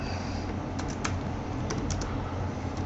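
Steady, rapid keystrokes on a computer keyboard as code is typed, close and clear, with a few sharper clicks standing out over a constant low hum and no voices.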